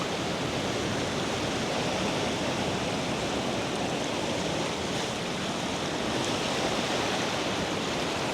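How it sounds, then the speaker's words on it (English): Sea waves wash steadily onto a beach in a continuous, broad roar of surf that stays loud and even throughout, with no voices heard. "I want to just wait for these waves to back off a little bit"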